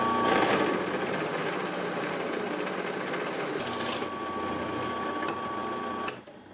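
A drill bit grinds steadily through rigid material kept wet with lubricant, a loud continuous whine holding for about six seconds with brief shifts before cutting off near the end.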